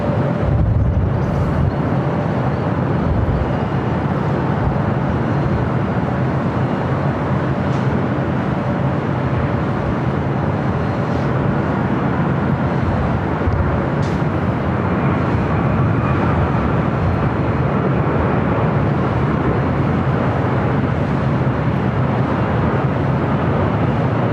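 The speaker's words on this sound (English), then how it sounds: "the United 757 coming in from Newark" A United Boeing 757 airliner landing at LAX, a broad continuous rumble and roar of jet engines sustained throughout, fairly loud and steady with no voices.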